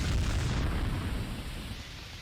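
A rumbling explosion in the video game Max Payne 2, a dense, loud, low roar that is strongest at the start and slowly fades, with no talk over it.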